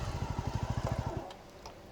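A Royal Enfield Himalayan motorcycle engine thuds in a quick, even beat of pulses near a beach in South Goa, then fades after about a second, with no talk.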